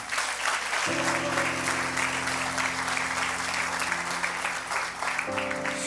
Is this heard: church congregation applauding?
yes